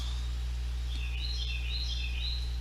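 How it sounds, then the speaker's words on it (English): A bird sings outside through open windows and doors, a series of faint, high chirping notes over a steady low electrical hum indoors. "Did y'all hear that bird?"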